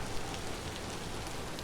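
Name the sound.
rain in Vintage Story video game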